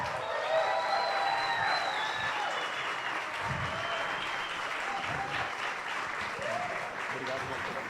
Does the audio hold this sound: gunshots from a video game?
no